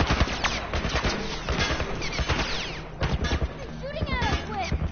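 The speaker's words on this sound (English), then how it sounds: "He's shooting at us with some kind of missile." Gunfire in The Last of Us, rapid bursts of shots and heavy blasts crackling close and loud in quick succession, with a voice talking over the battle throughout.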